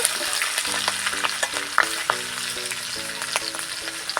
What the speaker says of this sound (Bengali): এটাকে ভালো করে আমি আদাটা একটু লাল করে নেব